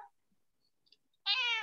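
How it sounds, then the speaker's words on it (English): A cat meows loudly at close range, one sustained, drawn-out call after near silence, heard during a community association meeting. "Somebody's cat has an opinion here."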